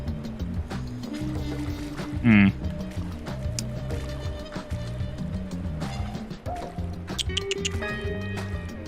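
Water in a flooded swimming pool in the cleanup game DrainSim: steady sloshing and liquid movement with drips, one sharp splashy gurgle near the middle, and a voice murmuring over it.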